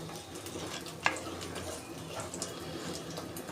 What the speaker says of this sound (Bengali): বেশি করে নাড়াচাড়া করছি যাতে করে নিচে লেগে না যায়।